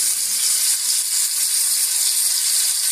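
Spicy fish frying in a pan with oil, a steady close hiss and crackle of sizzling that holds evenly throughout with no talk over it.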